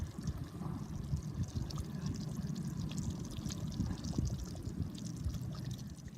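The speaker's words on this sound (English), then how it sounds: "I add about 2 cups of water, all of the carrots, and the McCormick's beef stew seasoning mix" About two cups of water go into a beef stew pot with carrots over a campfire, a soft, steady pour and trickle heard faintly against a low outdoor background.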